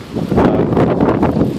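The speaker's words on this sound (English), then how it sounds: "as you can hear, it's a massive wind right now" Strong, gusty wind roars steadily and loudly across the microphone during a severe summer thunderstorm in New York City, with no talking.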